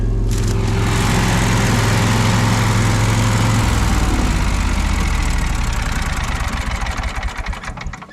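Generator engine idling in a snowy cabin yard, a loud steady mechanical rumble close by that holds even throughout and fades slightly toward the end, with no talking.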